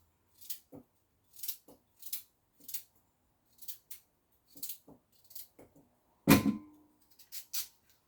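Ham being cut into little chunks on a board for pea and ham soup, with a series of short, sharp knife taps and clicks at an irregular rhythm and one heavier thud near the end, close and fairly quiet.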